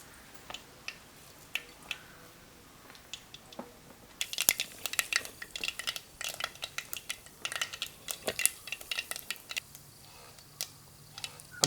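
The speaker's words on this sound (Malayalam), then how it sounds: "അപ്പോൾ കടുകെല്ലാം പൊട്ടിയിട്ടുണ്ട്." Mustard seeds crackle and pop in hot oil in a pan while a star fruit pickle is cooked. Scattered ticks build into dense, rapid, close spluttering with no talking.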